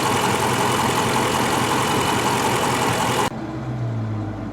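A 2016/2017 Dodge Charger ScatPack engine runs with a loud, dense rumble that drops abruptly to a lower, calmer idle near the end.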